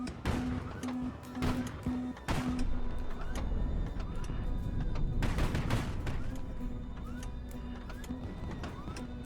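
A blind missile drop in the video game Highfleet sets off a string of sharp, booming blasts and crackling bursts, loudest early and followed by a steady low rumble with faint distant pops.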